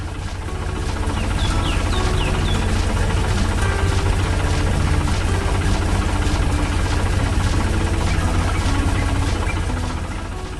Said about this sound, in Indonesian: traktor merah bergerak maju, menarik truk keemasan yang penuh hasil panen